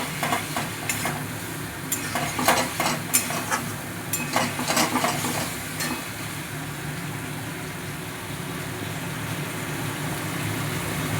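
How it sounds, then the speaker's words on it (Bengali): Paneer sautéed in a pan for a shahi paneer dish with fish, giving a continuous close sizzle and frying crackle. Scraping stir strokes come in a loose rhythm early on, then the sizzling settles into a steady simmer. "এবার আমি কষাতে থাকবো।"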